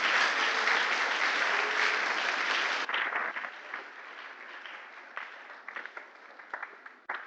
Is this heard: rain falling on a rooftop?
no